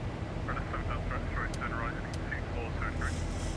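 A Boeing 737-800 airliner climbs in the X-Plane 11 flight simulator, its steady engine roar filling the background while a voice talks over it.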